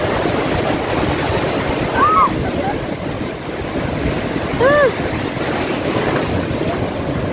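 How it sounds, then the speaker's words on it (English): Sea waves breaking on Noordhoek beach form a steady, broad wash of surf with wind noise, constant throughout, with a few brief bird calls above it. "The sound of the sea."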